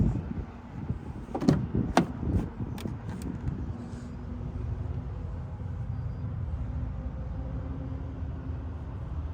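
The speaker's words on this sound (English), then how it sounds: "Let's go ahead and open this door real quick." A door on a 2022 Ford Bronco Sport Big Bend opens with a few sharp clicks and latch clunks early on, followed by a quiet, steady hum of surroundings.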